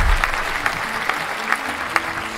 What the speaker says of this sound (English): We have the applause button.